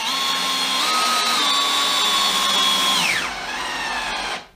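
A powerful cordless drill drives screws into wood, set on its clutch and torque settings, whining at a steady pitch that steps up, holds, then drops off as the screw seats and the motor winds down and stops.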